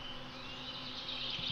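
Wasp buzzing near a frog in a video game, a steady close insect drone with a faint rising whine, alone and without talk.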